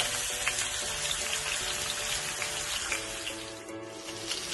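Salmon sizzles and crackles steadily in a frying pan, a dense close hiss with fine popping and a faint low hum underneath, no talking.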